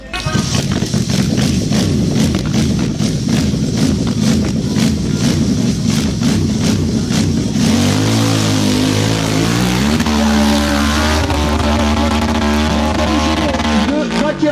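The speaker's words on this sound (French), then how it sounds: "Le moteur qui tourne" A racing car engine at a 2018 motorsport event runs loud and close, churning steadily before rising and falling in pitch as it revs hard and accelerates, with faint commentary underneath.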